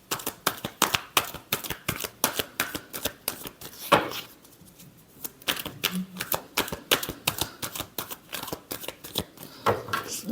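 Tarot cards being shuffled in quick, repeated riffling bursts, crisp and close, with a short pause midway before the rapid flicking resumes.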